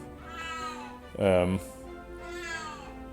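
One short, rising meow stands out clearly in the middle, with quieter talking before and after it.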